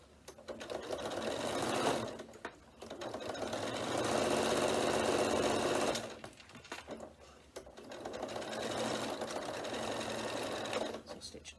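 A sewing machine stitches across a fabric notebook cover in steady mechanical runs, pausing briefly between passes and starting up again, loud and close.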